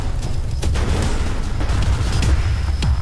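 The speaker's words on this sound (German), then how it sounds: "Granate." Grenade blasts in the shooter game ADACA, heavy low booms and bursts within steady battle rumble, loud and close with no talking.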